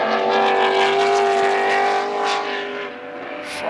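A Ford Capri and an RS 2000 touring car racing flat out down the straight at Goodwood, engines roaring loud and close with a sustained high whine that eases slightly toward the end.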